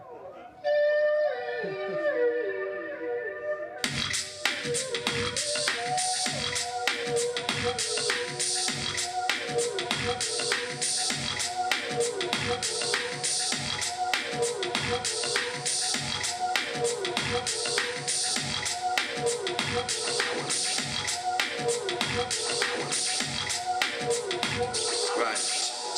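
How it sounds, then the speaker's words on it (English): A layered vocal pad thickened with heavy reverb, chorus and delay. It opens as a sustained, washy chord, then is joined by a dense looped beatboxed rhythm that pulses steadily and loudly underneath for the rest of the stretch. "So I do that by using loads of reverbs and chorus and delays and making this sound."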